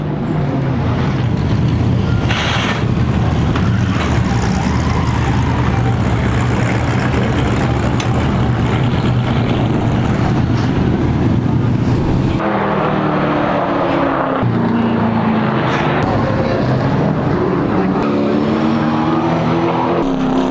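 Racing truck engine at a race track as the driver starts his qualifying laps, a loud, sustained motor roar with rising and shifting pitch, changing character partway through as the truck accelerates away.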